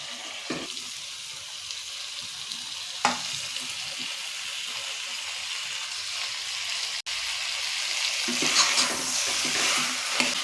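Carrots, beans and potatoes are stirred with masala in a pan for vegetable biryani. A continuous sizzle runs under occasional spoon scrapes and clunks, getting busier toward the end, close by and without speech.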